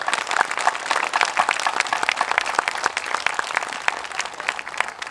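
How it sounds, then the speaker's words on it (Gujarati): An audience at a night tribal fair bursts into sustained applause, a dense and steady crowd clapping that carries on throughout. "આ વખતે તાળીઓ અટકવી નહીં જોઈએ"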